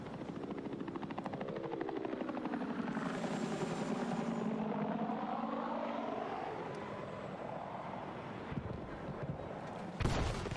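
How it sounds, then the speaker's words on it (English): A video-game helicopter drones steadily throughout with a throbbing rotor and engine whine that rise and fall as it passes, with a sudden thump near the end. "So the best thing he could do was steal the helicopter."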